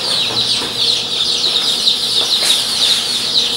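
Dense chorus of high peeping from a crowd of young Goliath chicks at a local poultry farm in Chad, continuous and busy as the birds are loaded into cartons, close and fairly loud with no talk.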